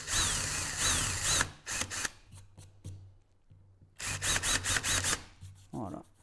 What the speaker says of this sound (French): je prends mon forêt pour les métaux, et je viens fraiser ma tête de vis